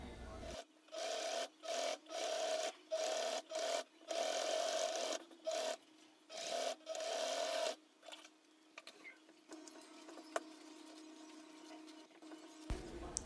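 A domestic sewing machine stitching the seam of a lined fabric bag runs in a rhythmic series of short, even bursts with brief pauses, then gives way to a quieter, lower hum.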